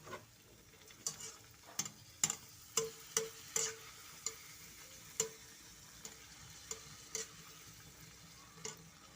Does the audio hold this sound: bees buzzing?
no